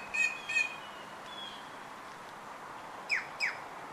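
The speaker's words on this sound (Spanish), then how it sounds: "Una de las características del carriquí pechiblanco es su canto, por el que también se conoce como tío tío." A carriquí pechiblanco jay, a crow-family bird, gives two pairs of sharp, high chirping calls separated by a quiet pause, moderately close over faint outdoor ambience.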